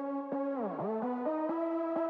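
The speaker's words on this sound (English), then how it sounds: "So we have the drop leads filtering in," A bright synth lead with stacked harmonics, pitch sweeping down and back up, then stepping through sustained notes with short rhythmic dips.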